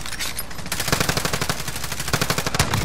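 Gunfire in the Call of Duty: Warzone video game: a fast, rhythmic burst of automatic shots, loud and continuous for about three seconds, with no talking.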